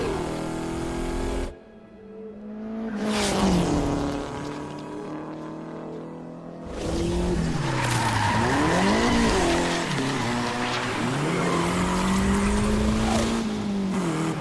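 Car revving hard and skidding in Need for Speed Unbound, with a loud engine roar rising and falling through gear changes and tire squeal, a short dip near the start, then sustained acceleration.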